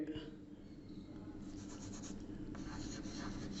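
Pen scratching across paper while writing code in a Python lesson, a faint, steady scribbling rasp close by with soft rustles.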